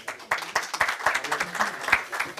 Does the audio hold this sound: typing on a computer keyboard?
no